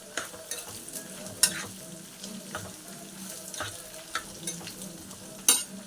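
Tempering seeds fry in oil for a bitter gourd dish, a soft steady sizzle with sharp crackles and spoon stirring taps popping up at intervals, no talking.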